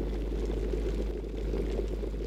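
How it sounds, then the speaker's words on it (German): Water heating toward a boil in an electric kettle, a steady dense low bubbling rumble with fine hiss above it, continuous and close at moderate level with no voices. "wie lange es braucht, um einen Liter Wasser auf 100 Grad zu erhitzen"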